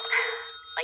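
A bell on a Christmas-themed train rings in a bright, sustained tone that fades, then sounds again briefly, close and clear with no talking.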